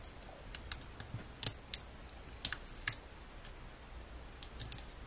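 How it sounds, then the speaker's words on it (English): Vinyl label and transfer tape are peeled from a corner at close range, giving a quiet series of sharp crackling ticks and small snaps spread unevenly, with no voices. "And then I always do the back as well. And then just peeling from a corner."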